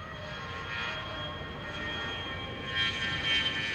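An A-10 Thunderbolt II jet circles the airport with its landing gear down, its engines giving a steady droning whine with a high tonal hum that swells slightly louder toward the end.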